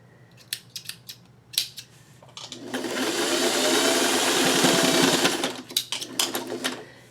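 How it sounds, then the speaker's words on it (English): Sewing machine stitching a fabric strip, running as a steady whirring burst for a couple of seconds, framed by sharp clicks and snips before and after. "I'm just going to sew and come off that strip."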